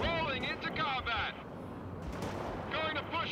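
Artillery fire in the war strategy video game World in Conflict, heavy booming blasts and rumbling gunfire spread across the moment, with a voice speaking over the battle.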